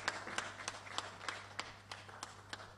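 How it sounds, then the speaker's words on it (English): An audience applauding at a panel on Uganda's political and legal electoral reforms, sparse, evenly spaced claps roughly three per second, faint and somewhat distant over a low electrical hum. "Another round of applause for Joe Dobitsi."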